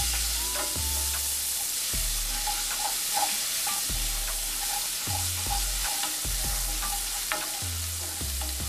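Diced green onions sauté in a hot pan, a loud continuous sizzle with repeated rhythmic scrapes and knocks of a spatula stirring every second or so, close up and without speech.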